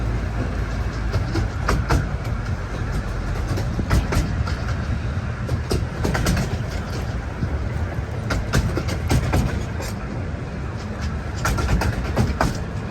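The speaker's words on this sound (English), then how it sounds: "this is the last train now" A train on the Romney, Hythe and Dymchurch Railway rolls steadily along the rails with a constant rumble and repeated clickety-clack beats from the wheels, loud and close throughout.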